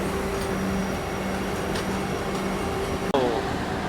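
The Gangakaveri Express passes close by at a station, a loud steady rumble and hum with a faint tonal whine, then a sudden sharp clunk near the end.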